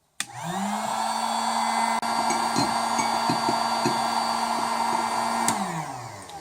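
A heat gun starts with a sharp click and runs as a steady, loud, whooshing blower hum while melting beeswax. It dips briefly near the middle, shows faint knocks, then winds down at the end.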